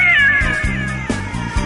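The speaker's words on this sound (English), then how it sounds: "staring you face to face in the mirror is a cat" A cat meows close and loud, a long drawn-out wavering cry that slides downward, with faint rhythmic thumps underneath.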